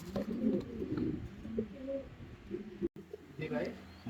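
Andalusian pigeons, a high-grade pair in a pigeon farm, coo in soft low throaty murmurs with a brief gap near the end, heard close and fairly quiet.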